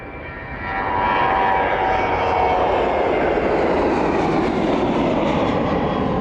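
Ryanair airliner jet engines roar at East Midlands Airport, a loud, steady broadband rumble that swells over the first second and then holds, close and continuous with no talk.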